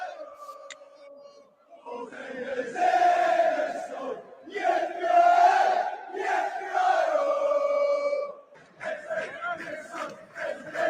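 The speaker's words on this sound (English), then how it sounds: "the crowd, the whole Aston Villa were going, Morgan gives a song, Morgan" Aston Villa football crowd chanting and singing in unison after a game, a loud, sustained mass of voices with rhythmic swells and brief pauses, filling the whole stretch.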